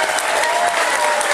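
Steady, dense round of applause from a live audience at a Liar's Club panel game show, even and loud from start to finish with no voices standing out.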